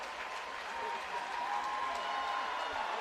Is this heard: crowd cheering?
yes